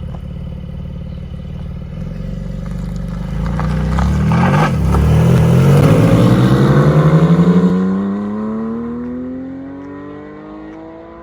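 A Porsche 718 Spyder convertible sports car, a unique 000 edition, pulls away with a rising engine note that swells as it accelerates, then gradually fades into the distance.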